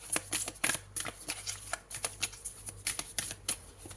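Tarot cards drawn and handled in quick, soft papery flicks and shuffles, a close, rhythmic series of crisp brushing sounds with no talk.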